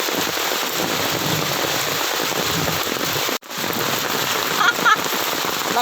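Heavy rain pours down in a dense, steady hiss, broken by a brief dip about halfway through.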